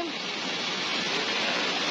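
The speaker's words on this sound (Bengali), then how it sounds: "এই দেখেন অনেক জোরে সোরে বৃষ্টি হচ্ছে" Heavy rain pours in a dense, steady hiss, close and loud, unbroken from start to finish.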